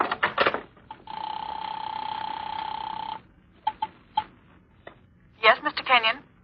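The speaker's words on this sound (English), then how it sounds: "The house phone." House telephone dialing in an old radio drama: a steady dial tone for about two seconds, then short clicking bursts of the dial, ending with a quick rattle of several clicks close to the handset.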